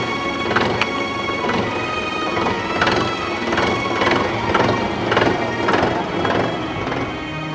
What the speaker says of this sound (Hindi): ए लड़के पहले ट्रैक्टर सीधा थाने ले चल